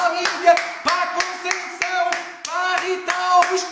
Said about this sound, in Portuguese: Uma salva de palmas para a Lídia!